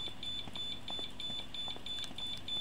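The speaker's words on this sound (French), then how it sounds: "j'ai mon ordi qui bip. Pas normal." A computer gives off a string of high, evenly spaced electronic beeps. They repeat in a steady rhythm over constant background noise, with no speech.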